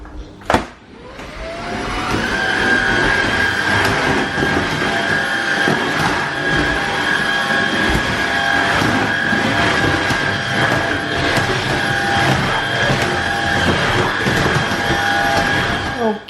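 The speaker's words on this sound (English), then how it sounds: "Just gonna do a quick hoovering" A household vacuum cleaner starts up with a sharp click and rising whine, then runs steadily and loudly for the rest of the time, a constant motor drone with a bright whistle, hoovering a floor indoors.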